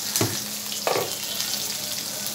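Boal fish pieces frying in hot oil in a pan, a steady bright sizzle with two sharp crackling bursts as the oil spits, fairly close and without any talking.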